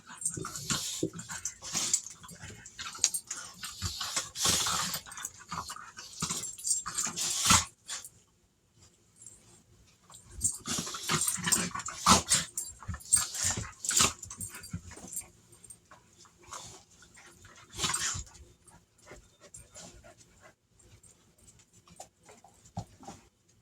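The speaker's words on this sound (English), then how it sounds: "that's my dogs wrestling over there like a bunch of dummies" Dogs scuffling and playing roughly, with bursts of heavy panting, snorts and small whimpers coming and going over about twenty seconds, fairly close.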